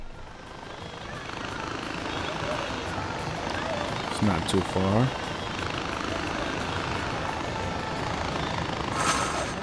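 Helicopter flying in Far Cry 4, a steady whirring rotor and engine drone that runs under the whole stretch while someone talks over it.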